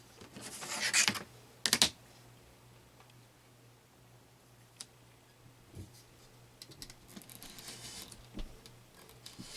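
Quilt fabric pieces are cut on a work surface, with two loud crisp bursts early on followed by quieter scattered clicks and snips spread irregularly over the rest.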